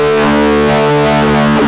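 A guitar amp plugin's wah effect shaping a sustained distorted guitar tone, the filter sweeping through the harmonics, loud and upfront with no talking.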